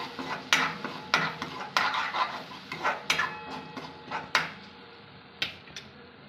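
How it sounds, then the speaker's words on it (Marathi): Chopped tomatoes and turmeric are stirred in a pan for rava upma, heard as a run of rhythmic scraping and clinking strokes, close and fairly crisp, with no talking. "आता आपण याच्यामध्ये थोडी हळद टाकून घेऊया मिक्स करून घेऊया"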